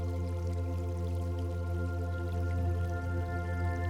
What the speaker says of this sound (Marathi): नदीच्या खळखळणाऱ्या पाण्याचा आवाज ऐकू येतो आहे.